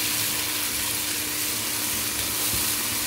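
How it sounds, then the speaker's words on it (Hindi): Green chillies, tomatoes and ginger garlic paste fry in a pan with a steady, loud sizzle that runs unbroken throughout, no voices over it. "इसको मैं अच्छी तरह फ्राई करूंगी।"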